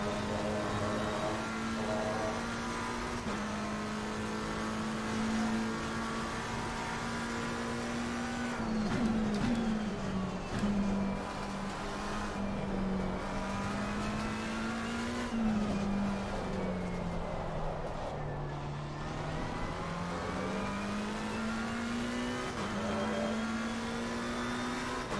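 Race car engine in the sim racing game Assetto Corsa Competizione, a steady high-revving drone held close and loud for the whole stretch, pitch rising and dipping through gear changes and corners, with faint tire noise.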